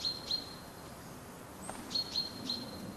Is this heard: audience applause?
no